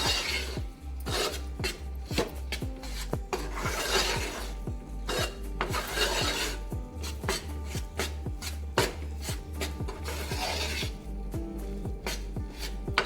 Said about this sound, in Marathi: चमच्याने असं भाजायचं आहे कारण खाली लागू शकतो